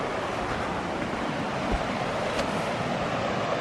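Rushing water of a rising Georgia mountain river fills the sound with a dense, steady roar, close and loud, with no pauses.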